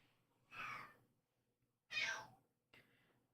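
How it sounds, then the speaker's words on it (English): A cat meows several times, three separate calls spaced out with quiet gaps between them, fairly close and moderately loud with no talk over them. "Can you hear the meows?"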